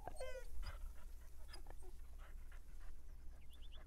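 A puppy pants in the farming game Farmer's Dynasty, quick soft breaths with a brief whimper near the start, faint and low in the mix against a steady background hum.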